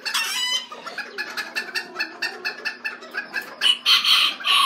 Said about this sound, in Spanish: En la parte de abajo tenemos un gallito buff. Otro gallito limonado.